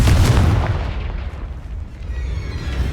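A Confringo explosive spell goes off in the Hogwarts Legacy video game, a loud booming blast with a heavy low rumble that fades into a noisy tail before swelling again.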